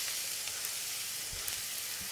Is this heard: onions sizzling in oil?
yes